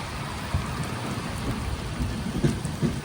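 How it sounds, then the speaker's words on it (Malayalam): Steady rain pours down in a dense, even hiss at Mulki railway station, with a few soft thuds mixed into the downpour. "അങ്ങനെ നല്ല മഴ വന്നിരിക്കുകയാണ്."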